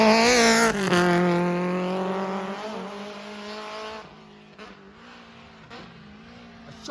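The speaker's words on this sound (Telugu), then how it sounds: "డౌన్ షిఫ్ట్ క్రేజీ చేసిండు" A modified car on the track downshifts, its loud engine note falling sharply through the gears, then settling into a quieter, fading drone.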